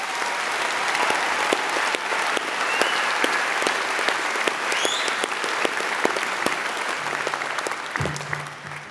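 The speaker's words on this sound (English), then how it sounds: "Will you please give them a round of applause?" A ceremony audience applauds musicians from the Royal Birmingham Conservatoire with sustained, dense clapping from a large crowd, fairly distant and steady throughout.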